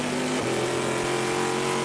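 An aluminum-block, titanium-valve V8 race car engine pushed to full throttle at an American Le Mans Series race in Baltimore, a loud continuous roar whose pitch shifts briefly as it changes gear, heard close up.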